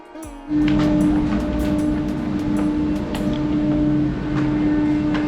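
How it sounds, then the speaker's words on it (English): A cable car ride in Jericho, on a very long line running below sea level, gives a steady mechanical hum with one constant droning tone. It kicks in loudly after a brief quiet moment and runs on evenly, with no talking. "this cable car ride is the #1 tourist destination in the oldest city in the world"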